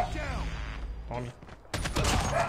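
AK rifle gunfire in a first-person shooter video game, a rapid burst of shots near the end after quieter game sounds, with a player talking over it.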